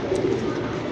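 Teddy pigeons cooing softly and steadily at close range, a continuous low murmur of several birds with no voices over it.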